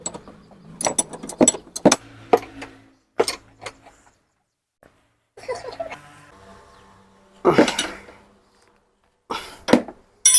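Ratcheting clicks and metallic clinks come in short bursts with quiet gaps as a size 17 nut is tightened onto a Honda Activa scooter fork, close and fairly crisp.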